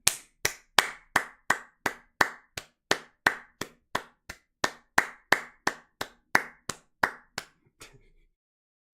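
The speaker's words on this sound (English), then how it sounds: "Give me a round of applause for the rally cap, man." A single person claps hands in a slow, steady series of about twenty sharp, separate claps during a live crypto stream, close and alone with no talk over it.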